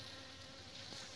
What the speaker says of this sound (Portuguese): Olha o barulho das abelhas.